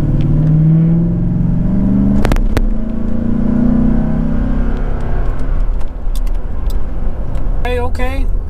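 A Toyota Tundra with a 4.6L or 5.7L V8 and a newly fitted aFe intake revs loudly, a deep rumble swelling and holding, with people talking over it.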